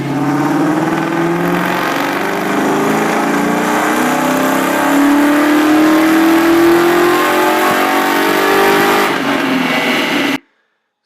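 A 2001 Ford Mustang Bullitt V8 on a dyno pulls hard, its engine note climbing steadily in pitch for about ten seconds, loud and close, before cutting off abruptly.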